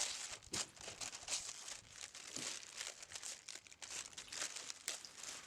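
Parchment paper being handled while making an American flag knife, with dense close crinkling and rustling throughout, some sharper crackles, no voice.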